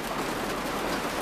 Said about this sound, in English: it is starting to pour down rain. I'm sure you can hear it